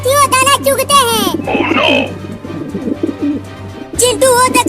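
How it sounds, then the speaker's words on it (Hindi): Cartoon pigeons coo and warble over a steady low hum, with squeaky high bird calls at the start and end and a stretch of lower cooing and chatter in the middle. "वो देखो आसमान में ढेर सारे कबूतर उड़ रहे हैं।"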